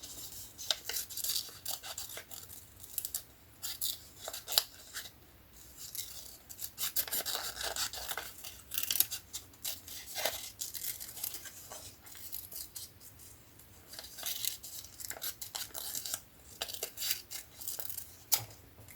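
Scissors snip through scrap paper for a handmade Christmas card, a close series of crisp, irregular cutting and rustling strokes with brief pauses between bursts.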